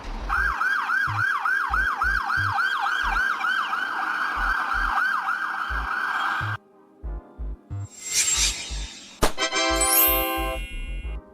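An ambulance siren wails in a rising and falling pattern, loud and close, then switches to a different tone with bursts of engine and road noise.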